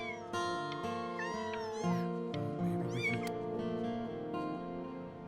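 Cat meowing in the video game Before Your Eyes: several high, wavering meows rise and fall one after another over steady game music, close and clear.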